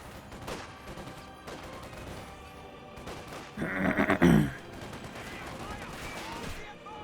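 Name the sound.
MG34 machine gun and rifle fire in a video game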